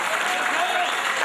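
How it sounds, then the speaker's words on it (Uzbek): A crowd applauds for a man named Obidjon, a dense, continuous wash of clapping heard close and loud throughout. "Yana bitta Obidjonga o'ta qarsak cho'laylik"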